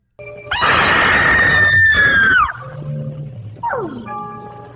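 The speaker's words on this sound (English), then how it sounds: "she'd let out a blood-curdling scream" A single loud, sustained high-pitched scream from a horror hostess, held for about two seconds before cutting off. A shorter falling shriek follows after a brief pause.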